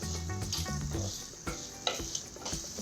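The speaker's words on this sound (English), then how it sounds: "Fry the onions well and then we will add the tomatoes." Onions frying in a pan for a raw banana sukka masala, a continuous soft sizzle with a few stirring scrapes and clinks, fairly close and alone.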